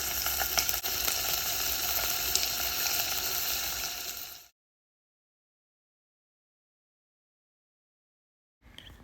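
Fish sears in a hot pan before being poached in butter, a steady loud sizzle for about four seconds, then silence, and a brief return of sizzling at the very end.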